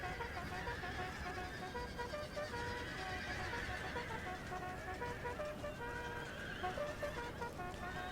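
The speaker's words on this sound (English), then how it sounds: "My God, they've got so much horse, so much cavalry here." Cavalry horses whinny and neigh in the Empire: Total War video game, with hoofbeats clip-clopping beneath a dense, faint battle din.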